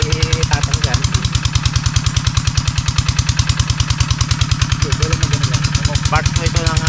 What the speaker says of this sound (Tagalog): patayin muna natin yung makina